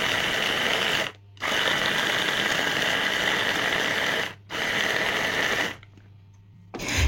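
Blender grinding red Padang chillies to a coarse texture, loud continuous motor whir in three bursts separated by short pauses, the last one stopping briefly before the end.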